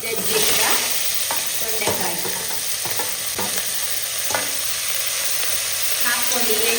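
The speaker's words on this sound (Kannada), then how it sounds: "ಎಣ್ಣೆಯಲ್ಲಿ ಒಂದು 2 ನಿಮಿಷ ಚೆನ್ನಾಗಿ ಫ್ರೈ ಮಾಡಿ" Crushed ivy gourd fries in oil with onion and curry leaves, a steady close sizzle broken by the scrape and clatter of a spoon stirring the pan.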